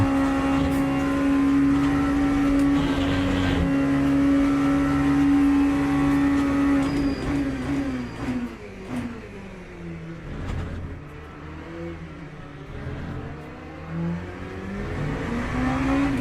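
Porsche race car in the Le Mans Ultimate racing game at Spa, its engine holding a loud steady drone before the pitch dips and climbs again through gear changes, close and continuous.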